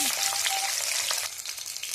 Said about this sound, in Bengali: ভাজা হচ্ছে, উল্টে দিচ্ছি